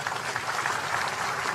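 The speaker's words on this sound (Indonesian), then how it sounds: "Tepuk tangan semuanya." Brief, moderately loud applause from the audience at an official ceremony attended by special forces troops; a dense patter of many hands clapping, steady and without voices.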